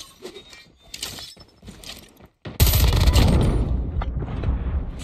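FFAR-1 rifle gunfire in a Call of Duty style shooter: scattered clicks and small impacts, a brief drop to silence, then a loud, dense burst of rapid gunfire that carries on to the end.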